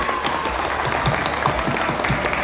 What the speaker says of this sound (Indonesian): Tepuk tangan buat Pak Wahyu.